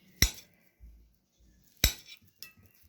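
A knife slices two bananas into medium-thick rounds for a pan recipe, giving three sharp clicks against the board, each followed by a short ring, with quiet gaps between them.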